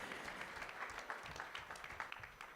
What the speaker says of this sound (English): Let's have a round of applause for those guys for having this space for us.